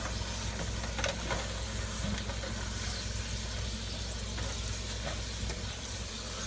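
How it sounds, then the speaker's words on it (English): Steady sizzling from chicken Alfredo pasta frying in a pot, a constant crackling hiss with faint scraping stirs throughout, close and fairly loud. "Now my favorite part, all that sizzling going on"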